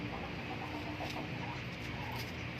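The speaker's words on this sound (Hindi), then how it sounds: "ये मुर्गा तो सारी मुर्गियों को ही तंग करता रहता है।" A rooster and hens cluck softly in the background, short scattered calls from a few birds over a low steady ambient hum.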